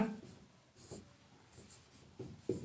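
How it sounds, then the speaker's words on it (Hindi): A pen scratches across paper in a few short, quiet strokes close by, with faint talk in the background. "तो यहां लिखेंगे"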